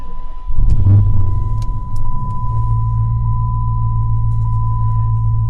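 2010 Dodge Challenger engine cranking and catching with a short burst of noise, then settling into a steady low idle rumble under a constant electronic tone.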